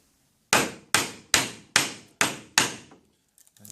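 A chisel held in a vise is struck to chop wood, giving six sharp, evenly spaced hammer blows, each a loud close crack with a short ringing decay, then a few faint knocks.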